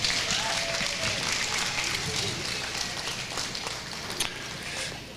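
Crowd applause at a rodeo livestock show's market steer grand drive in a large arena, a broad, continuous wash of clapping heard at a distance with a roomy, reverberant spread.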